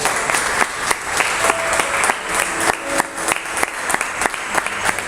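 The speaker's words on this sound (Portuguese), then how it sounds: "Você pode aplaudir Jesus bem forte." A church congregation applauds, with loud, dense clapping from many people that goes on steadily and sounds close, with separate sharp claps standing out and a few faint voices in the crowd.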